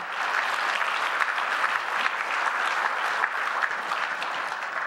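A crowd gives a round of applause for a colleague at a university social policy center's anniversary celebration. Many hands clap in a dense, loud, even roar that holds steady for several seconds without talk.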